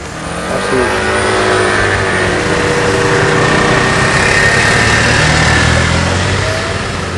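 A small Kymco scooter engine drones steadily and loudly throughout, with a high buzzing whine and wind rush, as if riding along at speed through mountain country.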